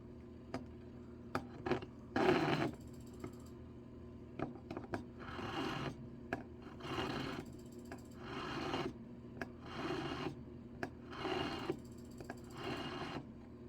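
Metal ring being filed while it is resized up four sizes, a rough scraping rasp in repeated strokes of about a second each with short pauses between, close and moderately loud, mixed with light clinks and taps.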